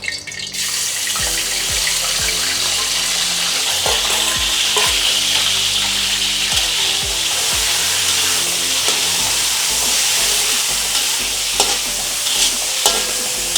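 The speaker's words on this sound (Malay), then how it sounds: "Once minyak dah panas, kita masukkan udang dulu ya." Shrimp dropped into hot oil for Chinese-style fried rice, sizzling loudly and steadily throughout, with repeated clinks and scrapes of a utensil against the pan and no talking.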